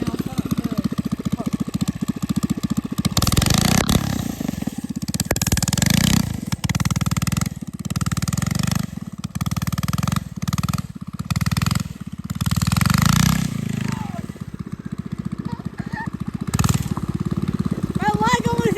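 A mini bike engine runs and revs in the snow, loud and close, rising and falling in bursts with brief pauses, while people talk over it.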